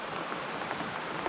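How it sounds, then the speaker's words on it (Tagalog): Steady rain falls throughout, a dense even patter with no talking during a trek outdoors. "patuloy kami sa paglakbay tol kahit umuulan"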